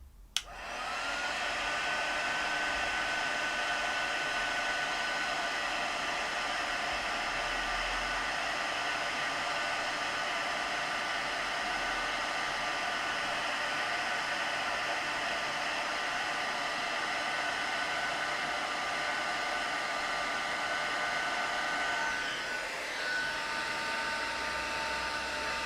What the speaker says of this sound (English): I'm gonna heat emboss it from underneath, so cover your ears now.